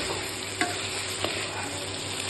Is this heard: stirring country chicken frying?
yes